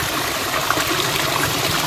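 A waterfall on a country property in Brazil, one of several cascades, gives a steady, loud rushing and splashing of water at close range, with no voices.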